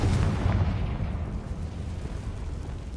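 A Confringo fire spell going off in Hogwarts Legacy, a loud, deep explosive burst at the start that rumbles and fades over a few seconds.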